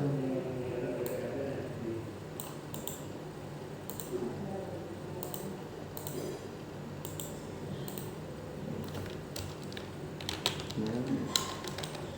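Rapid clicking keystrokes on a computer keyboard while entering server configuration commands, with bursts of typing and pauses, close and fairly quiet, alongside a person speaking.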